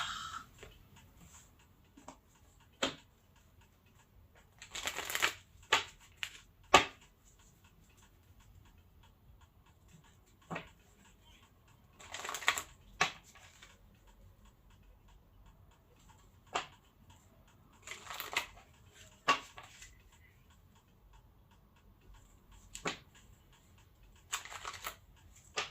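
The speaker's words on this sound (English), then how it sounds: "I'm just aligning the cards so you can get the correct message." Tarot cards are shuffled and tapped into alignment, with bursts of riffling and sharp single taps repeating at irregular intervals against near silence, close and fairly quiet.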